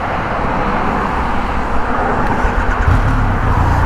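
A Triumph Rocket 2500cc motorcycle engine running, a loud, continuous close-up rumble with broadband roar that grows slightly heavier near the end, no talking.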